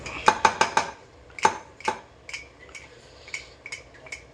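Metal utensil clanking against a cooking pot while ground masala goes in for fish curry, a quick burst of four sharp clinks then scattered lighter taps, close and moderately loud, no talk.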